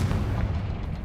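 A heavy fiery blast from a Confringo spell in Hogwarts Legacy, a loud, close, booming burst that rumbles and fades over about a second.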